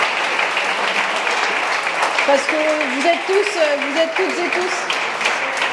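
Audience applause at an evening plenary meeting in Poitiers, a sustained, dense wash of many hands clapping while a person speaks over it.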